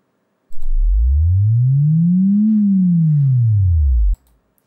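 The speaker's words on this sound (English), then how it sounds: "we have our sine wave going straight out, and we're going to hear this pitch curve" A synthesized pure sine-wave tone glides smoothly upward in pitch, then sweeps back down, loud and steady for about three and a half seconds before cutting off.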